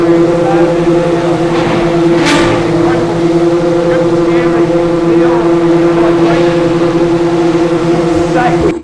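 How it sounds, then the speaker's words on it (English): Pagani supercar engines run loud and close in a pit garage area, a continuous roaring drone with steady tonal hum and occasional revving surges, while people talk over the engines. "I heard the unmistakable noise of some Pagani's starting up."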